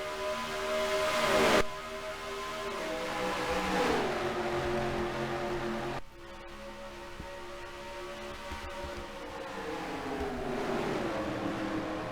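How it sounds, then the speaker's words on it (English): Simulated stock race cars roar down the track at Darlington in a racing video game, a steady loud engine drone with pitch shifts as the pack accelerates and passes, no talk. "We're green flag racing at Darlington."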